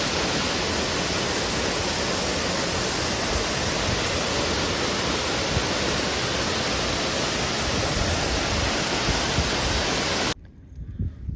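A steady, dense roar of a forest waterfall fills the clip evenly, then cuts off abruptly near the end.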